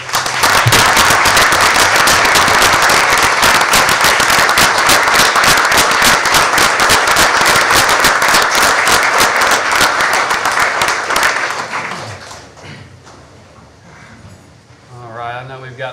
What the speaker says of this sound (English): One more round of applause for all that.